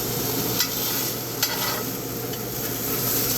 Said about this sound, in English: Now, folks, I'm going to flip this steak.